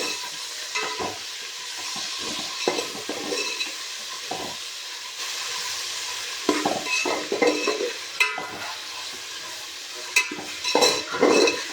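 Chopped tomatoes stirred into frying masala for chicken dum biryani: a steady background sizzle broken by repeated scraping and clinking of a spoon against the pan, close and without speech.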